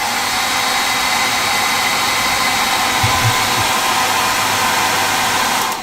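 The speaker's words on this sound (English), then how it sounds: "Give that a quick hair dry. Where's my hair dryer?" A hair dryer blows steadily and loudly from start to finish, a constant rushing whir with no other sounds.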